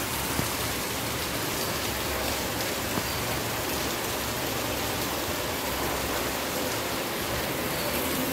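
Heavy rain pours down steadily, a dense, even wash of hiss with faint drops and no let-up, close and loud with nobody talking.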